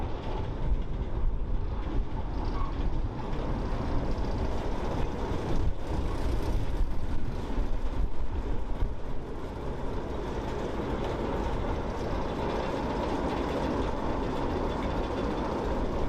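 A 1960 Class 08 shunting locomotive pulls a Dogfish wagon loaded with ballast along a heritage line, giving a steady, rumbling diesel drone with rolling wheel noise that stays even throughout.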